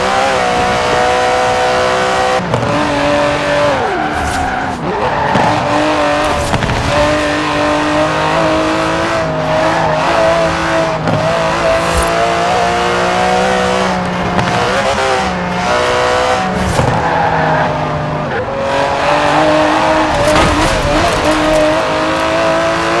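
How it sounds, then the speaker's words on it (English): An Aston Martin DB11 drives in Forza Horizon 4, its loud engine revving up and down through gear changes, with occasional tire squeals and skids over a continuous roar. "The DB11 is not the fastest car in the world, but then it's not trying to be."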